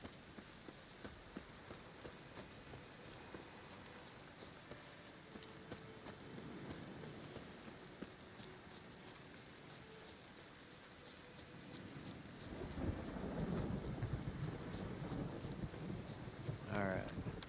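Rain in the video game The Witcher 3, a soft steady patter with gusting wind that swells louder near the end, with occasional speech over it.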